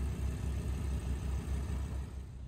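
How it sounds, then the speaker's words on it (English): The V10 engine of a 2011 Audi R8 Spyder idles quietly in an even, throbbing rumble, with soft rhythmic pulses repeating throughout. "Quite a monstrous engine."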